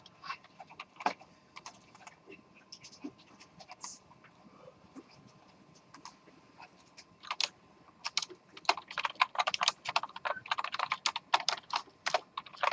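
C++ code being typed on a computer keyboard, rapid irregular keystrokes in uneven bursts that grow denser and louder toward the end, close to the microphone with no talking over them.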